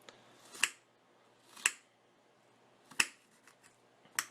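Sharp, faint knife chops on a cutting board while dicing food for a taco bake, four separated taps spaced irregularly with quiet in between.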